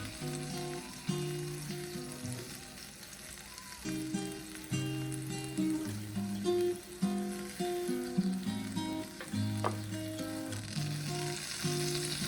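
Tomatoes roast in oil on a hot griddle for fire-roasted tomato salsa, giving a steady close sizzle and crackle for about twelve seconds beneath prominent melodic background music.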